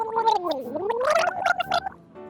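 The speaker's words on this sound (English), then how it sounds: "Olive took a big sip of the mouthwash and gargled loudly." A cartoon ostrich gargles loudly with a big mouthful of mouthwash, a bubbling, wobbling throat sound that rises and falls for about two seconds before stopping.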